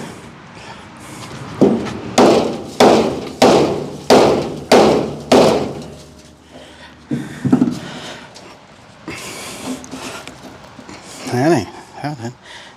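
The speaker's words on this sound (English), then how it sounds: "we'll see if we can use the little hammer to straighten it out" A small hammer strikes a metal part to straighten it, with about seven evenly spaced, loud, ringing blows followed by a few scattered knocks and lighter taps.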